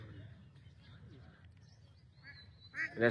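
Ducks quacking near a village pond in rural Bangladesh, a faint, distant murmur that rises into a couple of louder, nearer quacks at the end while a person talks.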